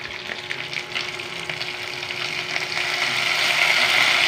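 Vinegar hits a hot pan in a small pot while cooking adobo, and a steady sizzle builds and grows louder toward the end, with a faint tonal hum beneath and no voices.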